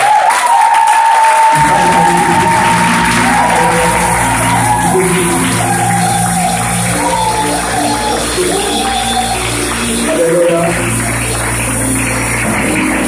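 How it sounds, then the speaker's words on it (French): Church congregation in Gabon acclaims and applauds its pastor, a loud, sustained mass of clapping and cheering voices with a steady low hum running underneath throughout. "Je voudrais ce matin honorer Dieu pour son serviteur, le pasteur Gaëtan, sous acclamation."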